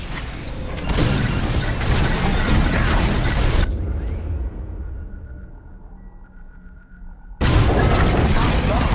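Bombs explode in the Star Wars Squadrons video game, a loud, sustained blast that cuts off into a fading rumble, then a second heavy explosion erupts abruptly at the end.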